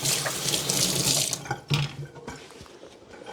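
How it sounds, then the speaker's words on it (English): A kitchen tap runs steadily as hands are washed under it, a close, hissing stream of water with brief splashy changes as the flow is interrupted, no talking. "I'm going to wash my hands."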